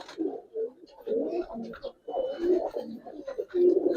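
Giribaz pigeons, a carbon coffee colouring among them, coo close up in repeated low, burbling phrases separated by short pauses, the calls rising and falling in a steady rhythm.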